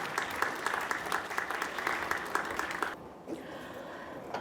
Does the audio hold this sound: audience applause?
yes